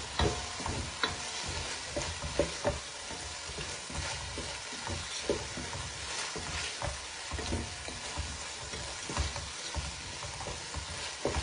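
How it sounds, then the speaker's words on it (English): Fried paneer is stirred into a rice gravy in a cooking pan: a dense, continuous sizzle with repeated soft scrapes and taps of a spoon, heard up close with no talking. "In this stage, we will add our fried paneer and mix it"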